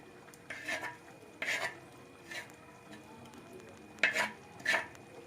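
Ground coconut paste being stirred into a taro leaf and lentil curry, with a few separate scraping strokes of a spoon against the pot, quiet and spaced apart.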